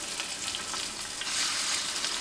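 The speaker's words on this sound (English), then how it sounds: "So I'm going to take my chicken and just lay it gently in the pan." Chicken laid into hot oil in a pan fries with a steady, close, bright sizzle that holds evenly throughout, with no voices over it.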